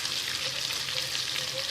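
Chilies and curry leaves fry in hot oil, giving a steady, dense sizzle with fine crackle throughout, close and fairly loud, with no voices.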